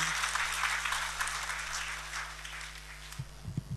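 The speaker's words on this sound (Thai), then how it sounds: "ขอเสียงปรบมือดังๆต้อนรับท่านด้วยค่ะ" Steady applause from a crowd welcoming a speaker at a national public consultation meeting in Thailand, even and sustained, with a low steady hum beneath and a few louder claps near the end.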